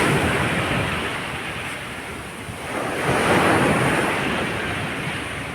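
Rough July sea with big waves rolling onto the shore, a continuous broad roar that swells around the middle, with gusty wind buffeting the microphone and no voices.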